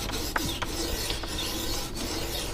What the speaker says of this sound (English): But at the moment I'm sharpening one of my Damascus knives, which is 1084 and 15N20.